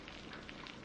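A rain-like sound effect, a soft, dense patter of tiny drops hissing steadily and faintly for a moment, with no voices.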